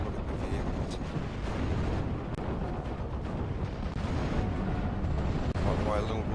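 Rocket salvo artillery in the WWII strategy game Steel Division 44 on Omaha, a dense continuous rumble of overlapping blasts and crackling impacts, loud and sustained throughout, with a voice talking over it.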